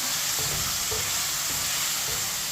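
Chicken sizzling loudly in a pan while it is stirred, a dense, continuous frying hiss close up with soft scrapes of the spoon, no voices.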